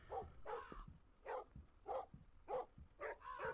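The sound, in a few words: dog barking in the video game Metel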